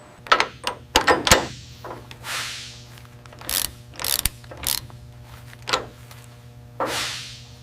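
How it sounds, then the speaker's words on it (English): A torque wrench ratchets during a restoration, with close, loud bursts of clicking pawl noise and clanks arriving in irregular spurts with short pauses. "Torque wrench ready for the next sequence."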